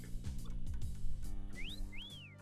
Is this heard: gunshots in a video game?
no